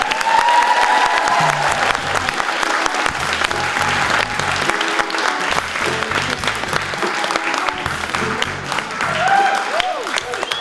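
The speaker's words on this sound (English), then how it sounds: "I just want to give her a round of applause" Audience at a comedy show breaking into sustained, loud applause, dense clapping with some cheering throughout, fading slightly near the end.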